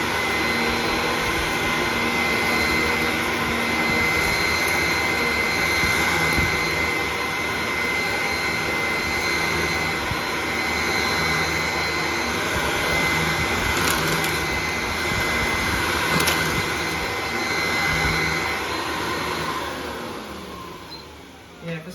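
A Dyson DC01 Standard upright vacuum cleaner runs steadily on carpet, a loud continuous motor whine and airflow roar throughout with small bumps as it is pushed, dropping off slightly near the end.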